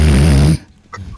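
A person imitates snoring right into the microphone: one loud, rasping, throaty snore, about half a second long, followed by near silence and a faint breathy sound.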